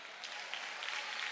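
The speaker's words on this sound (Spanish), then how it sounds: "Demos la bienvenida con un fuerte aplauso a Gabriel Robaina" Applause from a crowd at a drag gala in Corralejo, a steady wash of clapping that carries through the whole short stretch without any talking.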